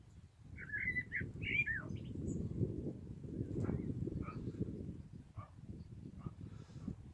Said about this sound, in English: translate what the birds are singing at the moment in the tree.